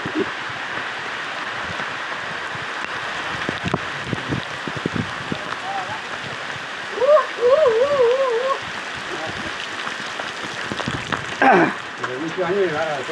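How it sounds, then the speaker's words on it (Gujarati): Steady rain hiss fills the whole stretch, with a few brief voices and bird-like calls rising over it. "વરસાદ આવ્યો"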